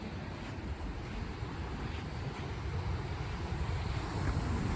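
Pacific Ocean waves breaking at a beach, a steady broadband roar of surf mixed with gusty wind buffeting the microphone, continuous and fairly loud throughout with no talk.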